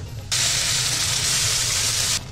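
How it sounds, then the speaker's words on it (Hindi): Ground spice paste hits hot oil in a wok for an egg curry, bursting into a loud, steady hiss and sizzle that runs about two seconds before cutting off, with no talk. "इसमें डाल दूंगी मैं पिसा हुआ मसाला"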